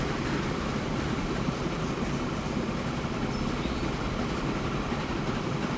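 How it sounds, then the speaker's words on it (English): A train rolls along in the video game Transport Fever 2, a steady, dense rumble with constant wheel and track noise throughout, no speech over it. "Train's looking awesome."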